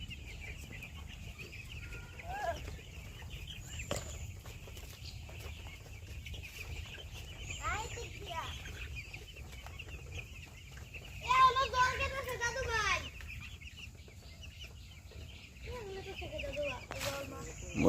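Broiler chickens cluck and chirp in short, scattered calls at close range over a low farmyard hum, with a busier burst of squawking midway.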